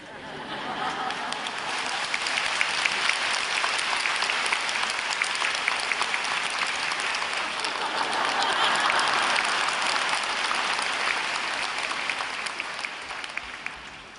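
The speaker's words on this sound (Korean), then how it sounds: "여러분이 박수 치는 것처럼" A church congregation bursts into sustained applause during a sermon, a thick, continuous wall of clapping that swells in the middle and tapers near the end, with faint crowd murmurs beneath.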